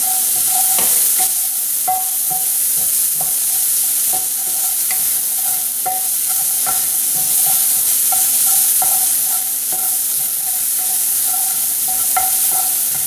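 Onions sizzle in a hot pan with blackened seasoning during steak cooking, a steady frying hiss broken by repeated scrapes and clicks of stirring, close and continuous throughout with no talking.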